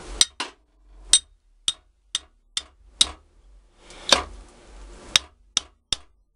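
A hammer taps a blacksmith's top and bottom fullering tool closed, a dozen sharp metallic ticks in an uneven rhythm, close and distinct, with a brief scraping rattle midway.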